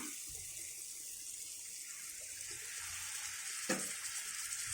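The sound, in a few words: pouring half a tumbler of water into egg gravy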